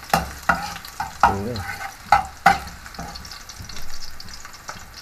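Garlic stir-frying in a pan for chicken feet adobo, with several sharp scraping strokes of a spatula over a low sizzle and a brief spoken word.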